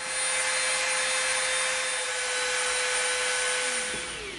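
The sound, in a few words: Dremel rounding the edge of EVA foam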